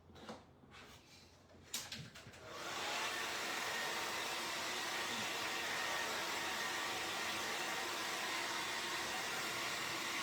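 A hair dryer dries a witch's broom craft piece, starting after a few soft handling knocks and then blowing as a loud, steady whooshing hiss close by.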